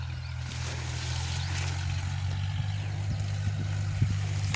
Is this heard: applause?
no